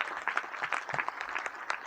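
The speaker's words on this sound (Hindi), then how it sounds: "आप लोग जोरदार ताली बजा करके अभिनंदन कीजिए" Audience at a Hindi spiritual gathering clapping to welcome the stage host, a short burst of crowd applause, moderately loud with some faint murmur.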